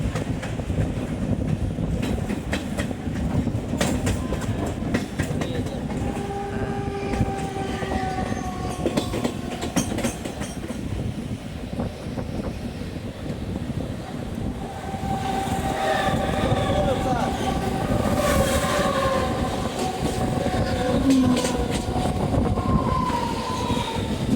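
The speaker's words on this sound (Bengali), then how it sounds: "এ হচ্ছে বন্ধুরা মুম্বাই লোকাল ট্রেন" Mumbai local train running past, a steady loud rumble and rattle of railcars throughout, with rhythmic wheel clatter and brief squeals, no voices.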